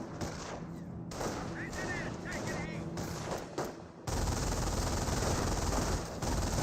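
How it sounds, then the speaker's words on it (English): MG42 machine gun fire in Company of Heroes, dense rapid bursts amid a battlefield din, with a distinct heavier, louder stretch of continuous fire in the final seconds; a voice talks over parts of it. "MG42 does find some good suppression on these forces, forcing them back"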